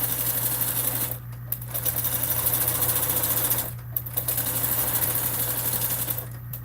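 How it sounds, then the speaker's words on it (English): A sewing machine top stitches a bag seam at a lengthened stitch in fast, even mechanical runs with a clattering rhythm, close and loud. It pauses briefly twice between bursts over a low steady hum. "top stitching 1/8 of an inch from the seam"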